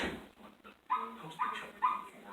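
A dog gives a few short yips and whimpering barks. They come in quick bursts over background noise and sound thin and somewhat far off, as if from a phone or video.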